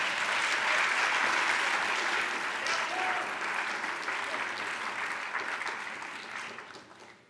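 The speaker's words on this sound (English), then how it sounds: "you might as well clap now" Audience applause at a scholarship awards ceremony, a broad, continuous wash of clapping from a large seated crowd that holds steady and then gradually dies away.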